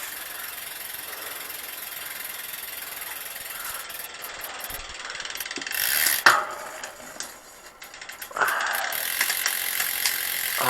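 Road bike shifter and derailleur working in a workstand, with mechanical clicks and ratcheting clatter over a quiet whirring drivetrain, a sharp clack midway and a louder spinning chain toward the end.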